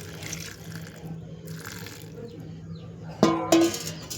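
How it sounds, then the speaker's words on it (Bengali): A little water poured onto marinated fish for a fish curry with green banana and potato: a brief, close splash near the end stands out over a low kitchen hum. "এতে আমি সামান্য একটুখানি জল দেব"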